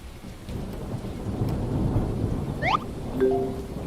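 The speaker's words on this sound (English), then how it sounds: "We got lots of lightning and rain" Thunder and rain in the farming video game World's Dawn, a steady hiss of rainfall with low rolling thunder rumbling underneath, plus a few short game chime tones near the end.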